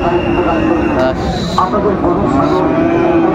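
An eight-month-old Friesian cross bull calf moos with a drawn-out, steady low call at a busy cattle market in Dinajpur, set against crowd murmur and nearby voices talking.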